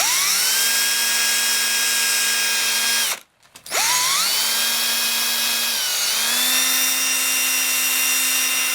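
A handheld power tool drives a pad polishing a composite RC sailplane wing tip, a loud steady high-pitched whine that briefly stops, spins back up, then dips and rises in pitch as load changes.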